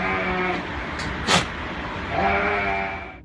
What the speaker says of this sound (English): Here's the Damascene goat, a creature with a rather peculiar appearance.